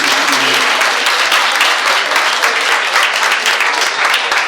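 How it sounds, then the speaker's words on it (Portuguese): A wedding audience bursts into a steady, dense round of applause, loud and close, holding evenly for several seconds with faint voices mixed in. "Dê uma salva de palmas aí"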